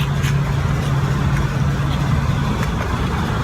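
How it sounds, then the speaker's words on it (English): Fire truck on the road, heard as a steady low engine rumble that holds close and continuous, with faint higher noises over it and no speech. "There's a fire truck."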